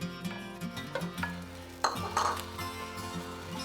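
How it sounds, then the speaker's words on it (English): Sausage going into a hot pan and being stirred with a high-heat-safe wooden spoon while making a breakfast quesadilla: soft scraping and knocking against the pan with a light sizzle, quiet and close. "now we're going to add our sausage"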